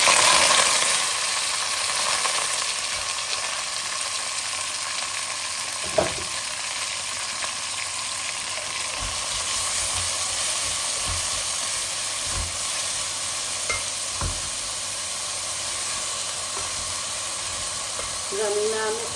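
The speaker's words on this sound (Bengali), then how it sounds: "এখন আমি পেঁয়াজ দিলাই" Onions sizzle as they go into a hot cooking pot over spices already reddened in oil, a steady frying hiss running throughout with a few soft clinks of stirring against the pot.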